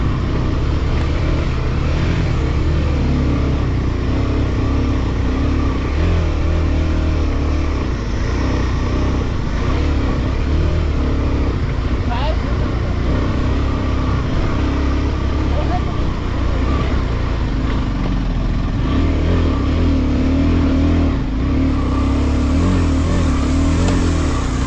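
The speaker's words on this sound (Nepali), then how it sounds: "अहिले चाहिँ म मेरो आफै चाहिँ बाइक चलाएर हिँडेको छु" A motorbike engine hums steadily throughout a short ride from Tanting to Karpu Dada, a continuous mid-pitched drone with slight rises in revs, close and loud, with a voice speaking over it.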